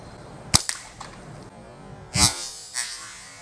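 Rubber-band slingshot shots fired at bottles: a sharp snap near half a second with a quick follow-up, then two louder cracking impacts later, all over quiet background with no talk.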